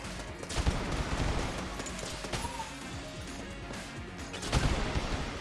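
The boomstick shotgun in Enter the Gungeon fires repeatedly in loud, broadband blasts over busy game noise, with heavier booms near the start and the end.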